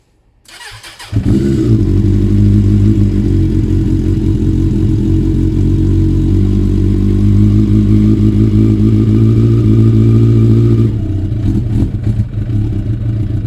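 A Suzuki Bandit motorcycle engine starts with a sharp catch, then idles steadily and loudly with a deep throbbing rumble, close by, before cutting off near the end.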